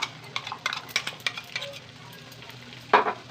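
Onions and spice paste for a chicken curry fry and get stirred in a pan, with repeated scraping strokes and soft sizzling, ending in a louder clatter near the end. The sound is fairly quiet and no one talks.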